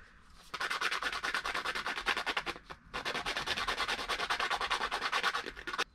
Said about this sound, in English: I have some sandpaper here.